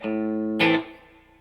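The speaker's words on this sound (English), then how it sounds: "Let me show you the reverb." Guitar through a Laney IRT15 amp with reverb on: a sustained chord rings, then a sharper struck chord decays into a fading reverb tail. No one speaks.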